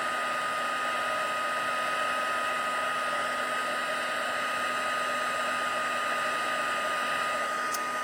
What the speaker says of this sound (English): I'm going to use the heat tool to heat up and melt the powder.